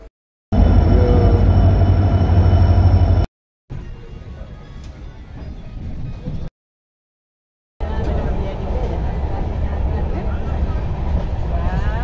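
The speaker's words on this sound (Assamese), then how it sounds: "গ'ল হাই কৰি দিয়া আহি গ'ল আমাৰ ট্ৰেইন" The Guwahati–Jorhat Town Jan Shatabdi train arrives at a station with a loud, heavy rumble and rolling noise in several segments broken by gaps, with speech over it.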